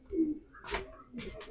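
A homing pigeon gives two or three soft, close coos in quick succession. A faint voice may sit faintly underneath.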